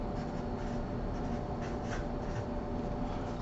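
A hand writes out a word in the Latin alphabet, soft continuous scratching strokes of pen or pencil on paper, close and quiet, with no talking.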